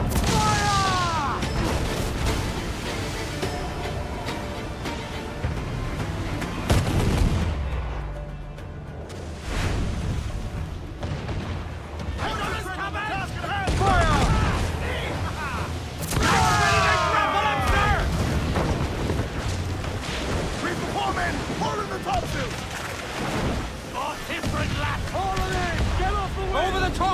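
Ship cannons firing in a naval battle in the Assassin's Creed IV Black Flag video game, repeated heavy booms in volleys mixed with shouting crew voices.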